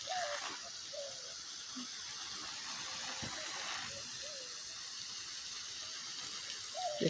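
Water sprays steadily from a hose onto backyard garden plants, a soft continuous hiss with faint splashing, while a few small bird chirps sound in the background.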